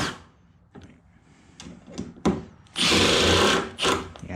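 A Milwaukee 2853 impact driver drives screws in short, loud bursts of rapid hammering, close by, with quieter bumps and handling noise between them.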